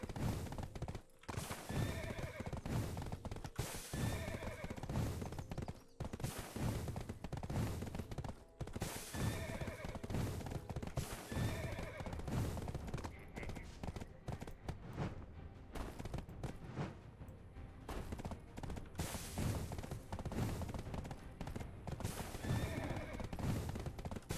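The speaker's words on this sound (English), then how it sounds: "I think I sort of do notice the difference in speed from horses now." Horses in the Black Desert Online video game whinny repeatedly over the steady drumming clip-clop of galloping hooves, loud and close throughout, with the neighs recurring every few seconds.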